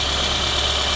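Toyota Corolla engine idling while still smoking despite new valve seals, heard up close as a steady, even hum with a faint vibration and no voices.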